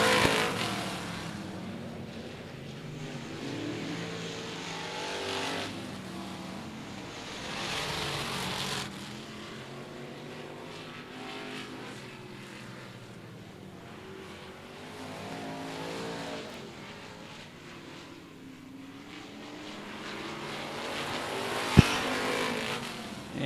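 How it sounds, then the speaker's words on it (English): Race cars roar around the Cotton Bowl Speedway, their engines swelling and fading as packs pass by, with a continuous drone and one sharp click near the end. "That 48 car, Robert Kim, is really driving a heck of a race here"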